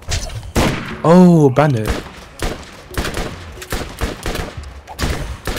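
Gunfire in the Borderlands video game, a run of sharp, loud shots fired in irregular bursts and single cracks, with voices talking and calling out between them.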